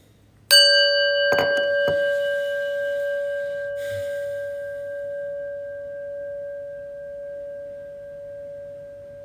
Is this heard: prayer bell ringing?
yes